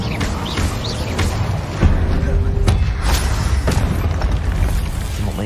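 Incendio spell blasts in Hogwarts Legacy, a series of crackling fiery bursts and booms over rumbling game noise, close and fairly loud, with a voice speaking among them.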